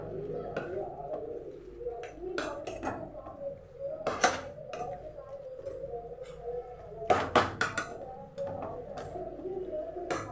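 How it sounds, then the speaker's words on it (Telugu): Chili powder stirred into a chicken curry in a pan, a spoon scraping and clinking against the metal in irregular bursts, with a voice talking and birds cooing in the background. "కారం వేసి స్టిర్ చేయాలి"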